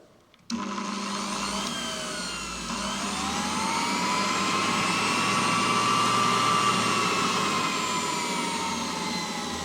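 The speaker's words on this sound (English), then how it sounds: "So this is the blower setup." A blower on a pin fin heat transfer apparatus starts up and runs with a loud, steady rushing whine that holds for the rest of the stretch, close and alone with no talk.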